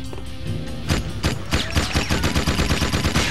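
Rapid blaster fire in the action game Jak 2, loud, close bursts of repeated shots that speed into a dense stuttering volley, with no talk over them.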